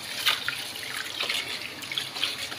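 A tap runs while someone washes their face. The water splashes and patters steadily, with small bursts of splashing throughout.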